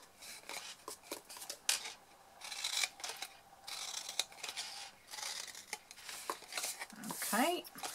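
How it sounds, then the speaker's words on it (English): Scissors snip wedges into the corners of a folding paper box, a series of short, close, crisp cuts and paper rustles scattered irregularly, with soft talking in the background. "Just cut those wedges."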